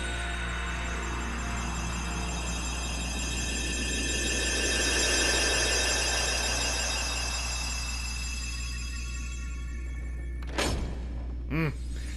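Keyhole sound effect in Kingdom Hearts in the Cave of Wonders: a long, shimmering magical swell that rises and fades over game music, then a few sharp chiming hits near the end.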